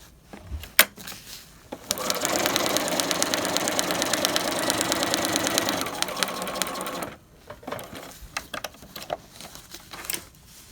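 A sewing machine stitches trapunto quilting channels, a rapid close mechanical whir running steadily for about five seconds between quieter handling sounds.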